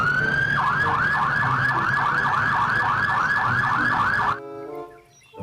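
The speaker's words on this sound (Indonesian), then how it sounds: "Wow, mobil pemadam kebakaran." A toy fire truck sounds a rapid electronic wailing siren, a fast repeating up-down warble of about a dozen cycles, loud and close, then cutting off abruptly into near silence.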